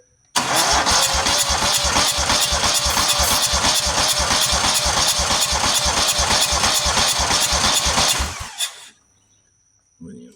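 A Buffalo turbine blower engine is cranked and tries to start, a loud rapid pulsing chug with steady beats for about eight seconds before it dies away into near silence and a brief last burst.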